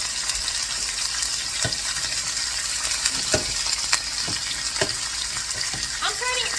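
Chicken pieces fry in a generous amount of hot oil with a steady, loud sizzle, broken by sharp crackles and pops scattered throughout, plus a few faint clinks near the end.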